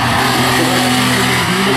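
An Alpine race car on a historic hill climb roars loudly and close at the start line, its engine droning with a steady buzzing tone and no pause.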